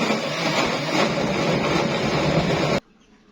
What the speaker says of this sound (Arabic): هنضرب بقى في الخلاط